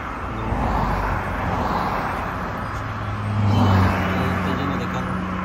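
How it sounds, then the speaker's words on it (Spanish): Heavy road traffic crawling past in Santa Maria, California, near the strawberry fields, a steady rumble of car after car with one louder vehicle swelling by midway, continuous under an occasional voice. "Carro tras carro, carro tras carro. Aquí se está haciendo un tráfico."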